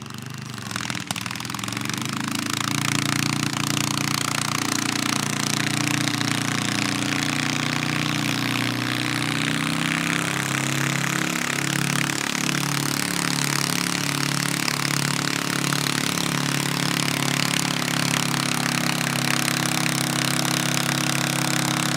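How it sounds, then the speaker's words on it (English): Garden-class pulling tractor engine driven by Liam Holden Housby at a North West tractor pull, droning loudly and steadily under load with a rising, shifting harmonic tone as the sled bites, continuous for the whole stretch. "Listen to the tone of the engine change."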